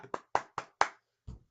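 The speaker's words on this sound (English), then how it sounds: "Let's give the shorts a nice little golf clap" Light golf clap from a single person, five soft close hand claps in a quick even rhythm followed by a duller final tap, alone in silence.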